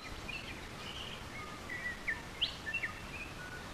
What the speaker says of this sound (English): There's birds everywhere.